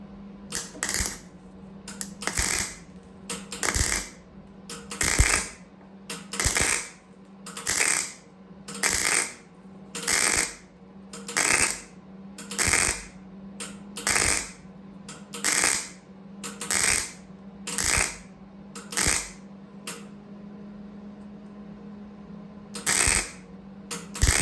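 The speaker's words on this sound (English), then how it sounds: "Let's weld this bad boy." Metal being welded in a run of short, regular bursts with brief gaps between them, each burst a crackling, sizzling hiss over a low steady hum.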